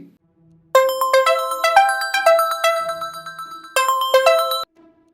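A phone ringtone plays a bright, chiming melody for about four seconds, loud and close, with a short pause before the tune repeats, then stops.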